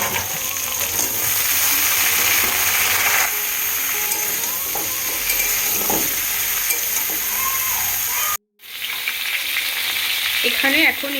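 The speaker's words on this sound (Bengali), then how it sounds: "আমার সবজিগুলো ভালোভাবে ভাজা হয়ে গেছে" Pumpkin, eggplant and other vegetables for a vegetarian cabbage dish fry in a pan with a loud, steady sizzle, stirred now and then, broken by a brief silence near the end before the frying resumes.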